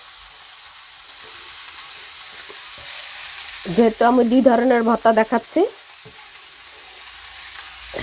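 Onion paste fries in a shared wok beside fried gourd leaves, making a steady, soft sizzle throughout, briefly interrupted by someone speaking.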